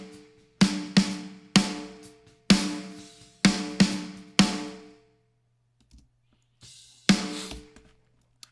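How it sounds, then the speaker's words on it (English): A layered snare drum sample played alone, about nine sharp hits in an uneven pattern, each with a bright crack and short decaying tail, separated by near silence. "the snare sample is a Lewis Johns sample"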